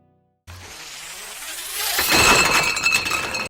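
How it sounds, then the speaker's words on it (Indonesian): A bottle trap set off inside an empty building, with glass bottles clattering and clinking, then building into a loud crash of shattering glass with scattered tinkling shards as the noise trails off. "dia malah terkena jebakan botol yang mengakibatkan suara berisik"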